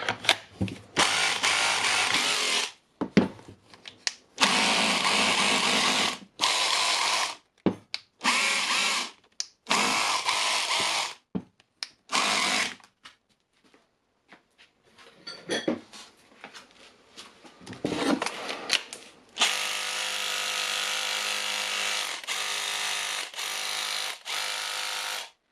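Makita DHR202 18V cordless hammer drill, repaired after not working, runs in several loud bursts separated by pauses, ending in a long sustained run of hammering at close range.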